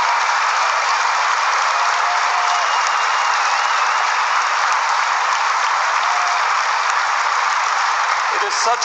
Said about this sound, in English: I am applauding you.